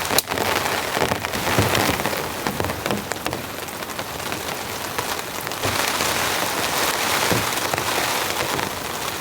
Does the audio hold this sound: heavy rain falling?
yes